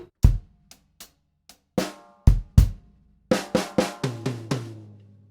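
A drum kit plays two bars of a soul groove, sparse snare and cymbal hits building into denser, louder strokes as the phrase crescendos to its end, played alone and close.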